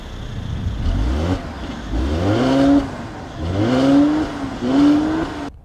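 2015 Mercedes-Benz C-Class with over 300 horsepower accelerating through several gears, the engine note rising repeatedly in pitch between brief shift dips, loud and close with no talk.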